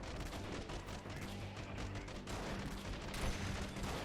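Sustained dense gunfire in the PC game Freeman: Guerrilla Warfare, a steady loud barrage of overlapping shots and blasts with no break, the way a firefight sounds from inside a large battle.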